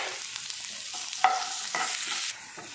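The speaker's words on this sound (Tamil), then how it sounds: "இப்போ வெங்காயம் நல்லா வதங்கிடுச்சு." Onion sautéing in a pan for masala tapioca, a soft sizzle of frying with scraping stirs and a sharp clink of the spoon against the pan, close and moderately quiet, with no voices.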